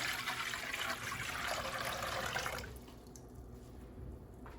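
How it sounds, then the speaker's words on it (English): Water pours steadily into a cooking pot for a couple of seconds, then stops, leaving a faint trickle and quiet room noise; cooking water for capirotada, Mexican bread pudding. "to my pot, I'm going to add 4 cups of water."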